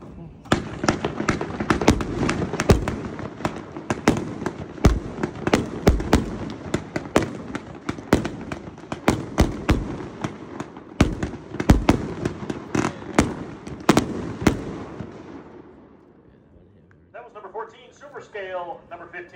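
A 40-shot firework cake at the China Sky demo fires a long, irregular barrage of loud cracking bursts. The bursts fade after about fifteen seconds, and voices follow near the end.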